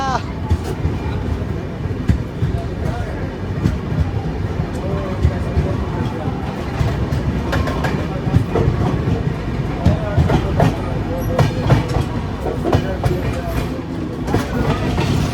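An express train runs past at Varanasi Junction with a steady rumble and rhythmic clickety-clack of wheels over rail joints, continuous and close, while people talk nearby.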